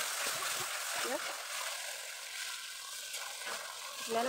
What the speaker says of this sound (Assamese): মছলাখিনি ভাজিবলৈ দিছোঁ। ভাজি আছোঁ।